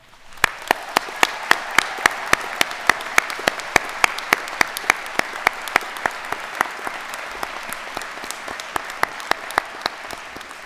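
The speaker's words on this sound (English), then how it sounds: "giving a well-deserved round of applause for everyone who has gotten us all here today" Steady applause from a graduation audience at Ulster University in Coleraine, with sharp individual claps standing out clearly over a continuous wash of clapping for the full stretch.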